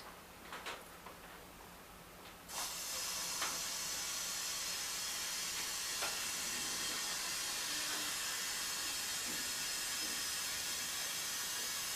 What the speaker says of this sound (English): See if my compressor kicks on here.